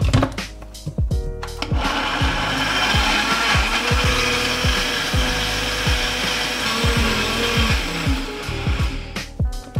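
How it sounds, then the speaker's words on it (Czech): A kitchen blender purees blueberries, cream and bananas for a healthy homemade ice cream, its motor whirring loudly and continuously with repeated rhythmic pulses and changes in pitch as the blades churn the mixture. "Všechny ingredience dáme do mixéru."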